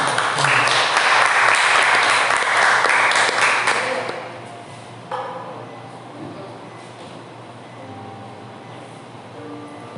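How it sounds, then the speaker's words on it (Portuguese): A church congregation claps loudly for about four seconds, then the applause drops off abruptly into quieter room noise with faint scattered sounds. "Salve palmas para o nosso rei."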